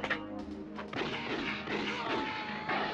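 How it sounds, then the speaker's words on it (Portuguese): Heavy gunfire during a police shootout at a restaurant in an action film, dense booming shots and crashes blended with a loud, continuous soundtrack. "Quando a polícia chega no local, um tiroteio frenético começa"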